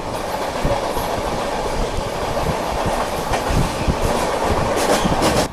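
Mahabodhi Express running on rails, its wheels giving a steady clickety-clack with a loud, continuous rumble throughout.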